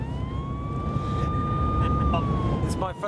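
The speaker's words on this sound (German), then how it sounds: "eine echte Funkstreife mit Warnleuchte und Sirene" A police patrol car siren wails in a steady sustained tone over loud road and engine rumble, heard from a moving vehicle on a highway during a Gumball 3000 rally being chased by police.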